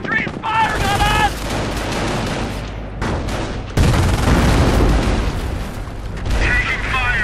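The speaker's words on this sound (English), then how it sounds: "Ground infantry is firing on us!" Sustained gunfire and heavy battle noise in the World War II strategy game Company of Heroes, Normandy campaign at Cherbourg, loud and continuous, with shouted voices and a Sherman tank's rumble mixed in.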